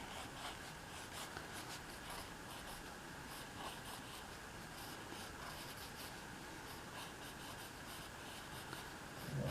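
Pencil shading a drawing of the dragon Glaedr, a continuous soft scratchy rasp of graphite strokes on paper, close but very quiet, with no talking.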